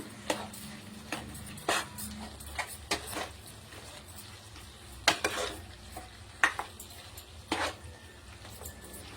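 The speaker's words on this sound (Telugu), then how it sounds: "చికెన్కి అంతా పట్టేటట్టు మిక్స్ చేయాలి మొత్తం" Chicken is mixed with mashed gongura leaf paste in a pan, the spoon making irregular scraping knocks against the metal over a faint background hum.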